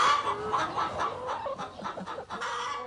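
Caged battery-farm hens cluck steadily, with many overlapping voices packed close together and no talking.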